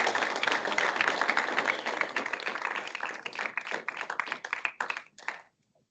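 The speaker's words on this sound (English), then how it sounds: "let's give a big round of applause to the folks who make this happen" Applause from an audience at an annual meeting, a dense burst of clapping that thins into scattered individual claps before stopping abruptly into silence.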